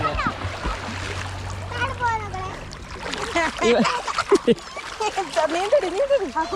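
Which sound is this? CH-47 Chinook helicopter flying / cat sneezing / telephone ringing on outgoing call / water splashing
water splashing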